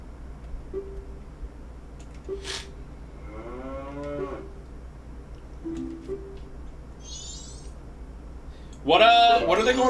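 Cows moo in Zelda: Majora's Mask, a few low drawn-out calls spread across the stretch over a quiet game ambience with soft ticking, while a voice speaks briefly near the end.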